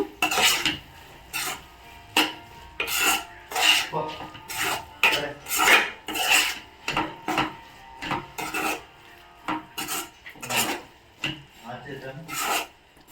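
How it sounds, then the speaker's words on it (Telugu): A spoon rasps and scrapes rhythmically against a pot while chili powder and garam masala are mixed, a string of about a dozen close, regular strokes with short pauses between them. "ఫుల్ ఇది మిక్స్ అయిపోవాల, అంతవరకు మిక్స్ చేసుకోవాలి"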